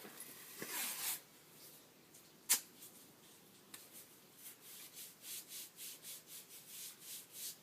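Athletic tape strips being torn and smoothed onto an ankle for a basket weave taping, heard as quiet scratchy rubbing, a couple of sharp rips, then a rapid rhythmic series of short swipes near the mic.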